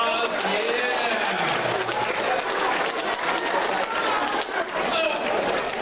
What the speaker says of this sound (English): Everyone give Katie a great big round of applause